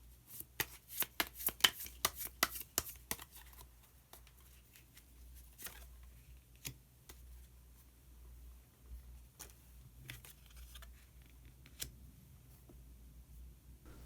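A deck of tarot cards being shuffled and drawn. A quick run of crisp riffling snaps comes first, followed by sparse, soft taps and slides of single cards in a quiet room.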